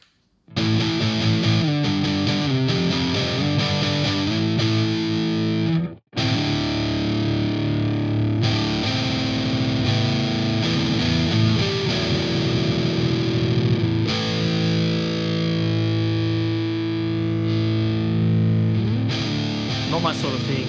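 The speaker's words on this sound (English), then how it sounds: "oranges definitely go that more fuzzy, get those doom sort of sounds going on" A heavily distorted, fuzzy electric guitar through an Orange Dual Dark 50 amp simulation plugin plays sustained chords and riffs at loud volume, with a brief pause near the start.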